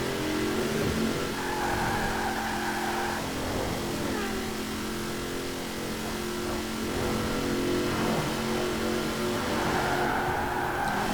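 A 2020 Chevrolet Corvette Stingray Coupe accelerating uphill toward top speed in Forza Horizon 4, a continuous loud engine drone with steady harmonic whine, rising slightly in pitch and holding near constant for about eleven seconds.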